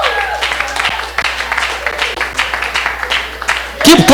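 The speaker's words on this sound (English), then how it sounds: "Keep clapping, keep clapping, keep clapping." A dinner audience at a Kingdom Millionaires event in Washington, USA, on its feet clapping in steady, dense applause, with cheering voices and a loudspeaker voice mixed in throughout.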